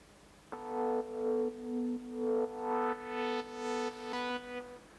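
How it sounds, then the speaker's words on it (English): Korg Volca Keys synthesizer playing a sustained pad, its filter swept by a slow LFO, giving a steady tone that swells and ebbs in repeated waves, brightening toward the end, alone without talk. "So it's kind of a pad sound,"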